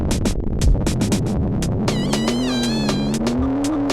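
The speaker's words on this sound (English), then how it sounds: "You're driving around in a remote-controlled car in someone's house." Small remote-controlled car zipping around a house in a first-person Atari Jaguar driving game, a steady buzzing motor that rises in pitch around the midpoint, with rapid clicks and electronic effects over it, loud and continuous.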